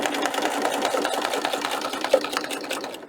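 A sewing machine stitches over a fabric book protector strap, running in a rapid, steady close-up whir of needle strokes that slows and stops at the end.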